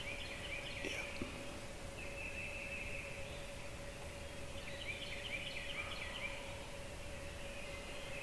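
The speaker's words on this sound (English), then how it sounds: "We got birds gobbling." Wild turkeys gobble in the distance from a Tennessee ridge on public land during opening weekend of the season, faint rattling calls standing out a few times over a quiet woodland background with a steady low hum.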